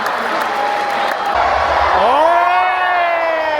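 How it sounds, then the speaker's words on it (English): A large theme park crowd at Puy du Fou in France cheers and whoops loudly as a Mexican wave sweeps around the audience, rising voices swelling into a sustained roar, with one nearby exclamation. "Mexican wave now all the way around."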